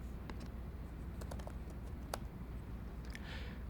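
Keys clatter on a computer keyboard as a name is typed into a spreadsheet cell, a quick irregular burst of light close taps over a soft room hiss.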